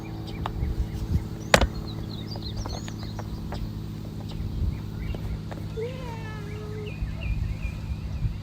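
An indoor cat meows a few times, fairly close, with rising and falling cries near the end, over a steady low hum and one sharp clack early on.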